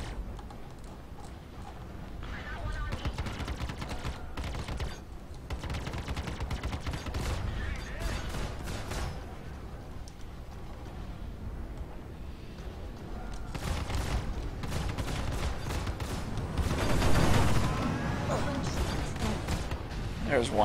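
Spaceship weapons fire in the video game Star Citizen from an Aurora LN fighter with its default fixed loadout. Repeated bursts of shots and booms come in irregular clusters over a continuous rumbling game soundscape.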